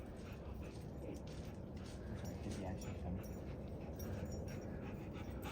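Injured puppies, hurt after running under a tree's low limbs, whimper and pant faintly and continuously against outdoor background noise.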